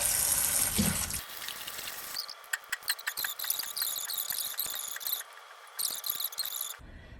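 Tap water rushing into a cooking pot of washed grapes for grape jelly, a bright gushing stream that shifts and splashes, with clattering and a brief squeal as the flow changes.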